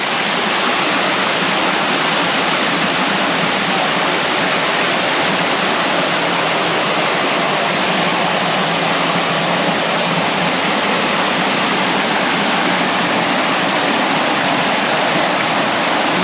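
Soco Falls waterfall and its creek in Maggie Valley, North Carolina, roaring as a loud, dense, unbroken rush of falling water heard up close, with no voices.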